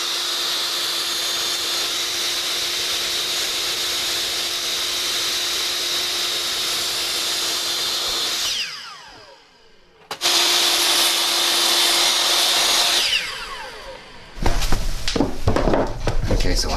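Power saw cutting stair pieces to length during a stair renovation: a long, loud, steady whining cut that winds down, a short pause, then a second cut spinning up and down, followed by clattering handling noise.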